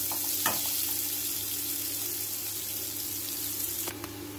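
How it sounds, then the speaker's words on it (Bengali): Chopped onion and garlic fry in hot oil in a wok, making a steady, fairly loud sizzle with a couple of brief stirring clatters and a constant low hum underneath, with no speech. "কড়াইয়ে তেল গরম করে তাতে পেঁয়াজ, রসুন কুচি দিয়ে নেড়েচেড়ে ফেটে নেব।"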